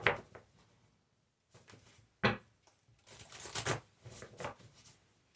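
A deck of cards is riffled and shuffled in several quick bursts, crisp flutters separated by brief pauses, close and fairly quiet.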